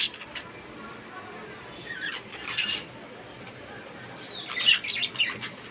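Pet birds chirping as they flock in to be fed leaves, giving faint scattered high chirps and tweets over a low background hiss, with a brighter cluster of calls near the end.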